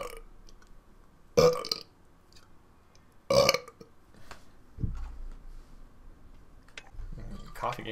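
Two loud, abrupt burps from a man who has been drinking coffee break through a quiet room, spaced about two seconds apart, with faint background game sounds in between.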